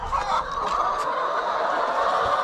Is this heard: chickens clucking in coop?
yes